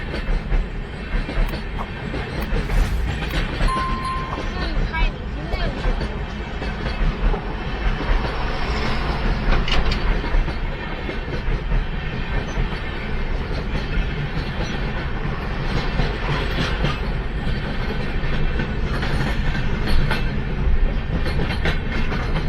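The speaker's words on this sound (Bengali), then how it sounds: "এই আমরা ট্রেন পেয়ে গেছি, বলতে বলতেই ট্রেন এসে গেছে।" A North Bengal train passes near a barrage, a steady loud rumble of wheels and wagons with rhythmic clickety-clack running throughout, no talk over it.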